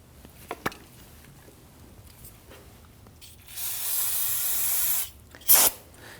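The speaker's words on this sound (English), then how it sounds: "any residual brake fluid at this point here, you want to go ahead and use some spray solvent and clean this up" Aerosol solvent sprayed to clean residual brake fluid off a rear brake hose fitting on a 2013-2019 Ford Interceptor Utility: one steady, close hiss lasting about a second and a half, then a shorter spurt after a few light clicks.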